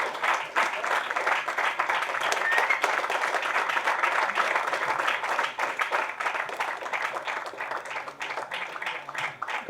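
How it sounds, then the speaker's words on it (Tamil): Sustained audience applause at an award ceremony honouring social welfare contributors, dense steady clapping from a sizable crowd lasting throughout, fairly loud and close, with a few sharper claps standing out. "உங்கள் பெருத்த கரகோஷத்துடன்."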